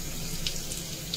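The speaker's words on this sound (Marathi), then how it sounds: "इथे तेल तापलेलं आहे, आता त्याच्यात आता हे जिरं घालते" Cumin seeds sizzling in hot oil in a pan while a Bhogi vegetable dish is cooked, a steady broad hiss throughout with a few faint crackles.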